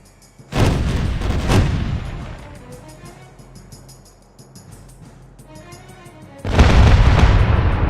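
A sailing ship's left-side cannon broadside in the pirate game Caribbean Legend: two heavy booming volleys close together, a rumbling lull, then another loud blast near the end.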